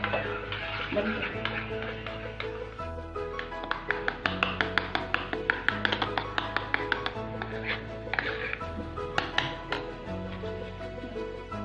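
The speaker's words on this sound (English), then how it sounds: "This is 1 packet Enu which I will adding to the batter, and now mix it." Eno being mixed into peas, oats and rawa idli batter, rapid spoon taps and stirring clicks against a bowl under a steady background music bed, close and fairly busy.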